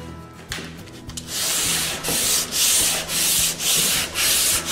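Rhythmic sanding strokes rubbing across wood, a steady series of loud back-and-forth rasps close by, following a few quieter scraping sounds at the start.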